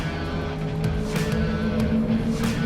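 A race car engine roars through a night race in the video game Project CARS 3, a loud continuous drone with shifting pitch and brief tire noise, heard without talk.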